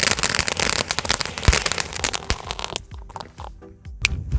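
Night fancy fireworks from Sivakasi crack and pop in rapid bursts during Diwali testing, loud close bangs with sharp crackling that thins out toward the end.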